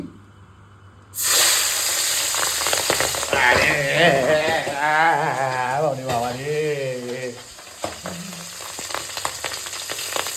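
Pabda fish frying in a pan, a sizzle that bursts in abruptly after a quiet moment and continues steadily, with a voice talking over it partway through.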